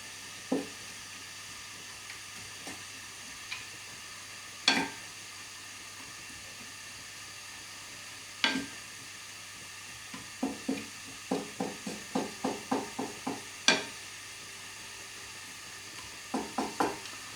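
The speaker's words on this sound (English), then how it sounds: "You virtually fry these till they're nice and soft" Vegetables softening in a pan over gentle heat give a faint, low sizzle broken by sharp clinks and scrapes of stirring, irregular at first, then in quick bursts.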